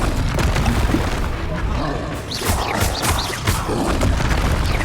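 Spell explosions from the video game Hogwarts Legacy, a dense barrage of booming, crackling blasts and roars in continuous loud combat audio, with voices shouting spell names over it.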